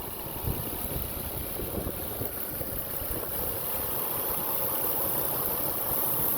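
A 2004 Mercury Sable engine idles steadily under an open hood, a low, even hum with a soft mechanical rattle, fairly quiet and without voices.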